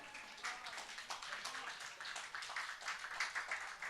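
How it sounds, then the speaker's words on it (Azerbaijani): Audience applause at a saz and poetry gathering honouring an honoured cultural worker: dense, steady crowd clapping that holds for several seconds, with voices mixed in. "Əməkdar mədəniyyət işçisi Fəzail Miskinlinin şərəfinə bir alqışlarınız gəlsin"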